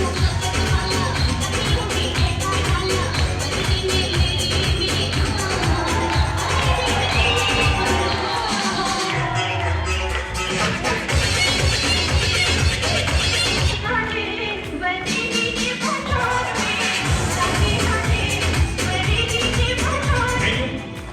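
A crowd at a stage show in Hamirpur, Himachal, claps and cheers loudly and steadily for about twenty seconds, with tuneful music running underneath.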